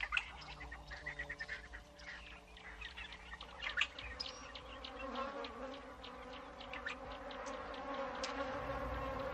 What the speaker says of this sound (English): African bees, like everything else, are desperate for sustenance. They seek out any source of moisture.